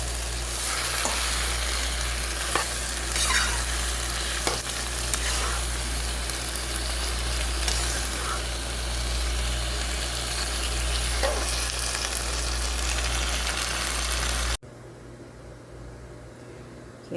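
Chicken chow mein stir-frying with oyster sauce as the noodles go in: a steady close sizzle with sharp stirring clacks and scrapes, ending abruptly in quieter room hum, no speech.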